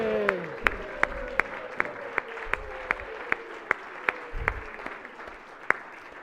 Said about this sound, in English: If everyone can give a round of applause to Senator Joanne Benson on her birthday.